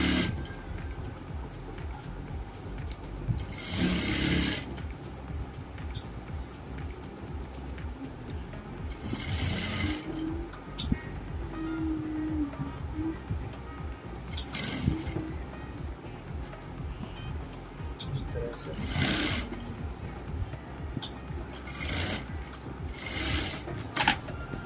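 A sewing machine stitches Patiala salwar fabric in several short bursts of fast, whirring mechanical chatter, close and loud, separated by quiet pauses with faint handling sounds.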